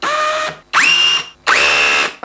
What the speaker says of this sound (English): take your drill bit, pop it in, locks into place, not going to come out of there